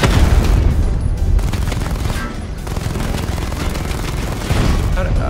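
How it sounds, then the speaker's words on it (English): Dense, continuous barrage of booming cannon fire and explosions in Batman: Arkham Knight, loud and close throughout, with brief voice fragments mixed in. "How do I fire the bigger cannon?"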